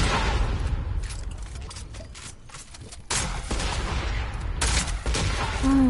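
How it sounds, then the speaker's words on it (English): Rapid video game gunfire on PS4 crackles in repeated bursts of sharp shots, some close and loud, others sparser, with brief lulls between volleys. "Stop shooting me."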